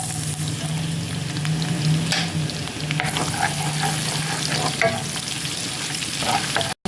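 Garlic and ginger sizzle steadily in melted butter in a pan, a dense, even frying hiss with occasional stirring scrapes and faint pops throughout, close and continuous with no talking.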